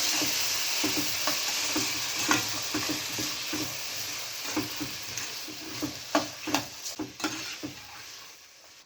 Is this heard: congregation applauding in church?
no